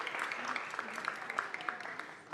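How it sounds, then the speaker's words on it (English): Light, scattered clapping from a modest group at a city council meeting honoring Mary Rosas, quick uneven claps in a steady patter, moderately distant and fairly soft. "Can we give her a round of applause?"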